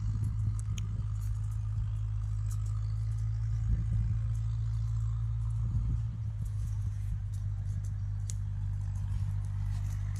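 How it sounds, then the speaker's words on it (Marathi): A tractor-driven rotavator churns a farm field with a steady low engine drone and continuous rumble, close and loud, with faint clatter above it. "शेत रोटावेटर चालू आहे"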